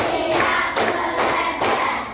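A class claps a rhythmic counting pattern in a classroom, producing four loud, even bursts of hand clapping at a steady pulse with no talking in between.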